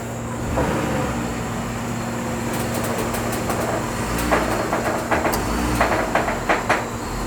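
A car creeping slowly up onto a U-Haul car hauler trailer hitched to a 10-foot box van, a low steady engine and rolling rumble with a faint whine and a series of light clanks and knocks toward the end.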